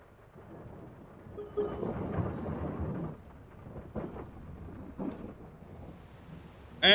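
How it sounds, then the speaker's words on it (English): Rolling thunder and steady rain from a storm in the video game Farming Simulator 22, with low rumbles swelling and fading over a soft wash of rainfall and no talking. "And it has started to rain."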